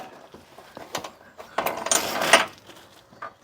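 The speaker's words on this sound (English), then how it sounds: "we're going to be jacking it up so we can get that back in here" A car jack lifting a Smart Fortwo 450, close mechanical ratcheting clicks in short uneven bursts, with a louder grinding stretch in the middle before it trails off.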